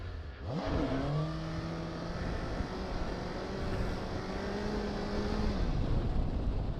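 Suzuki GSX-S 750 naked motorcycle engine from a 2019 model, steady mid-level drone with a rising rev sweep near the start, then a sustained burbling tone under wind rush while riding, with no voices.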